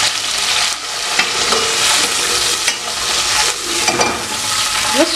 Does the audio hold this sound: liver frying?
yes